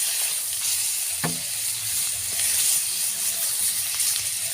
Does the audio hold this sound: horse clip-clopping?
no